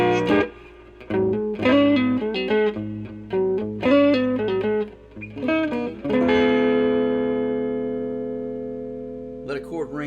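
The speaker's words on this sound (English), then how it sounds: "Let a chord ring and it chimes." An electric guitar plays a run of picked notes and short chords through a Monoprice Stage Right 15-watt all-tube 1x12 amp, then lets one chord ring out and slowly fade before strumming again.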